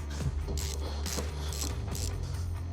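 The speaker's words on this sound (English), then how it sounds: "get like a 14mm socket onto there and use that to loosen and tighten" A 14mm socket wrench works bolts loose on a Peugeot Boxer campervan during a headlight and grille light job, giving quiet rhythmic ratcheting strokes repeated several times over a low background hum.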